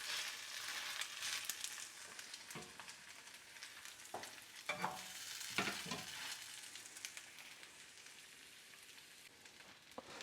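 Grated potato rosti pressed flat like a pancake fries in a pan over low heat, giving a steady close sizzle broken by crackles and occasional scraping, with no voices.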